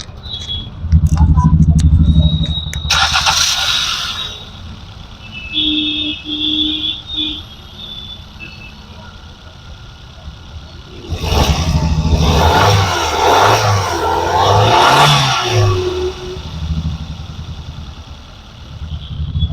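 A 2020 Maruti Swift VXi automatic petrol car engine cranks and catches, then runs with a steady low rumble that rises into louder revving bursts later on, with some voices nearby.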